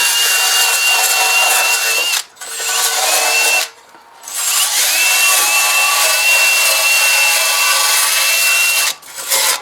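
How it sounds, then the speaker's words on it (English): A power drill whirs loudly and steadily at close range while working on a Ford F350 7.3 turbo diesel during a transmission fluid change, cutting out briefly twice with pitch wavering under load. "This drill's giving me a hard time today."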